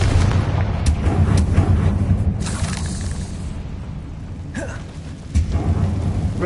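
Spell explosion in the Hogwarts Legacy video game: a rumbling blast with a deep, sustained boom and crackling debris, followed by a second swelling burst near the end, loud and close with no talk.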